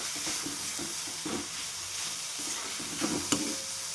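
Spinach roasting in oil in a pan for palak curry, a moderate steady sizzle with soft rhythmic stirring scrapes and a light spoon tap near the end, no voices.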